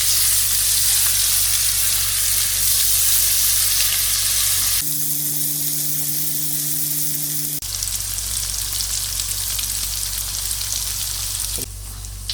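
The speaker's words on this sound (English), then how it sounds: "add the ginger and garlic paste and cook it on a high heat for about 2 to 3 minutes" Onions with ginger garlic paste fry hard in a pan over high heat for karahi paneer, a loud, steady sizzle that thins out for a few seconds midway, as if the pan is briefly lifted or stirred, then returns at full strength.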